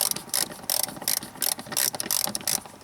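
Rapid ratchet clicking in short repeated bursts as a bolt is loosened underneath a 1990–93 Honda Accord 2.2L during fuel filter replacement, close and fairly loud with brief pauses between strokes.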